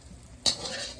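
Garlic hits hot oil in a wok with a sudden loud hiss partway through, then a steady, slowly fading sizzle for the rest of the second, with no voices.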